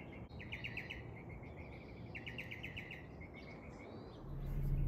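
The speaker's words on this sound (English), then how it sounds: "Hear the birds?" Birds chirping outdoors near a budding tree on a cold day, repeated quick bursts of bright, high trilled calls at moderate distance over a steady background hiss, with a low rumble rising at the end.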